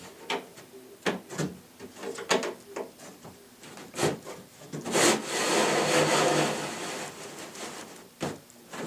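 A ready-to-assemble Forevermark cabinet panel for a lazy susan base is slid down into its back channels, giving a series of close wooden knocks and taps followed by a longer scraping slide.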